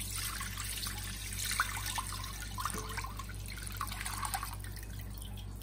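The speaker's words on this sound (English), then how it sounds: "Now I will pour in this milk." Milk pouring into a thick-bottomed vessel while making rabdi, a steady soft trickling and splashing stream over a constant low background hum.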